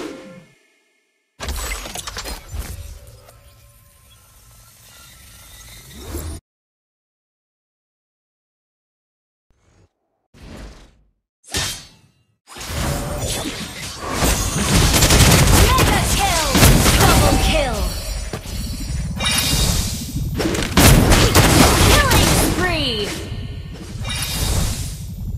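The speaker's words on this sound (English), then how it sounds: "Your team destroyed the turret!" A turret crumbles in Mobile Legends Bang Bang amid hero combat, with loud shattering crashes, whooshes and bursts filling the latter half after quieter gaps, while an announcer voice speaks.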